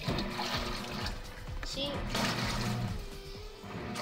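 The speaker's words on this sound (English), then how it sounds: "You can see the jets of water coming in, and this thing does a really good job of spinning the water around." Water jets rush and splash into the drum of a Haier HLP21N portable washing machine as it fills, a continuous close-up gush while a person speaks briefly over it.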